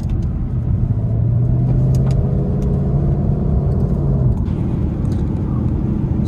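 A 2019 Ford Mustang GT V8 in snow/wet drive mode, its engine held at a steady, muffled rumbling drone under light throttle, recorded close from inside the car, with faint clicks and no speech.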